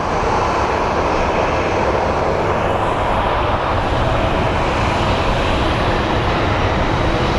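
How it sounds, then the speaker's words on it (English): An American Airlines airliner's jet engines at Phoenix Sky Harbor airport, a loud, steady broadband roar that holds throughout without pause. "So we have American Airlines 2645 going to Cabo."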